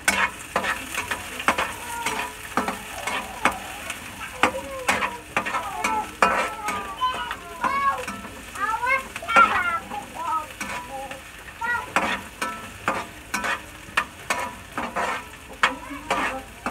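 Garlic and onion frying in a hot pan for Filipino pork adobo, a close crackling sizzle broken by sharp spatula clinks and scrapes, with stirring sounds throughout.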